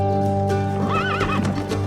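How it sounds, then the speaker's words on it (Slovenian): In a Slovenian-dubbed cartoon, a horse pulling a carriage gives a loud rising and falling whinny over steady clip-clopping hooves and a low rolling rumble, close and continuous, with no talk. "Še nikoli se nisem peljal s konjem in kočijo."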